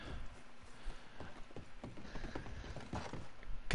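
A horse's hooves clip-clop steadily at a quick trot in the video game Red Dead Online on PS4 Pro, a quiet, even rhythm of repeated hoof thuds with no talking.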